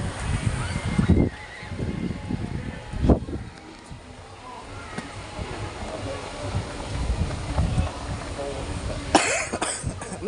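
A person with a cough coughs a few times in short, harsh bursts, spaced several seconds apart, over background murmur and rumble, with quieter talk in between.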